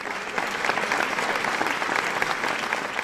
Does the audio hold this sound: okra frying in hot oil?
no